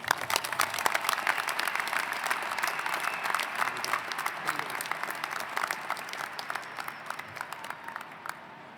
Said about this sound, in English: Everyone, let's please give Raul one more round of applause